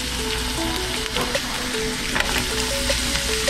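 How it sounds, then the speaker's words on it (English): Skin-on mangrove snapper fillets sizzle and fry loudly in a hot pan, a dense close crackle holding steady throughout with small pops and a faint stirring clatter, with no talking. "I got my pan going, so I'm just gonna drop the fish in there"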